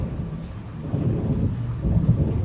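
Thunderstorm with rain: a dense, steady wash of rainfall with low, rolling thunder swelling up twice, loud and close, with no voices.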